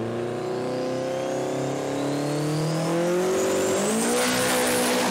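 A Toyota KE10 drag race car powered by a 3RZ engine accelerates hard on boost at a drag strip. The engine note climbs steadily and loudly through rising revs with no talk.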